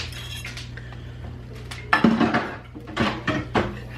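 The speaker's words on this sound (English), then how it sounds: "Just continue to whisk." A whisk scrapes and clinks against a pan of sausage gravy, irregular metallic taps and stirring scrapes that grow busier halfway through over a low steady hum.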